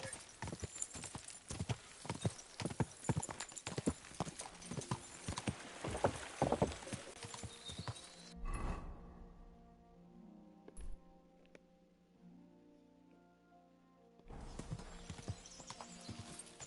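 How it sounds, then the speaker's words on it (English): Horse hooves clip-clop in a rapid, steady rhythm in Kingdom Come Deliverance 2, then cut off into a quieter stretch with low music before the hoofbeats resume near the end. "What are you doing, horse?"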